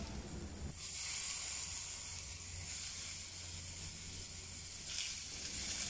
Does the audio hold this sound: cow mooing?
no